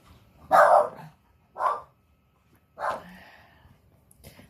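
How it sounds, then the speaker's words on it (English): Sparky the dog barks three times at close range, each bark loud and separated by a short pause, with quiet room noise between them and no talking. "That's Sparky barking"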